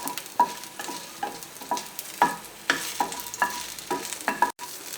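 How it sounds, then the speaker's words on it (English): Red chilies fry in a pan of oil for coconut chutney, sizzling softly while a utensil stirs and scrapes in repeated, evenly spaced strokes. "As the red chilies are getting roasted, I'm now going to add a bit of curry leaves."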